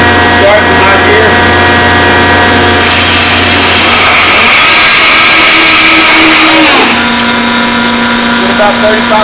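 A hydraulic power tong on a 3500 Hydra Shift DTT unit running in high gear while making up a pipe connection, giving a loud, continuous mechanical whine and hum whose pitch shifts partway through.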